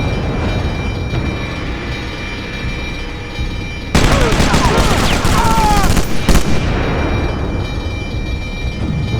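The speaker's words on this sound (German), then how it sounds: "Wer ballert da die Granaten umeinander?" Grenade explosions and bursts of gunfire in the video game Sniper Elite, a dense low rumble of distant fire for the first few seconds, then a louder, busier stretch of shots and blasts that thins out toward the end.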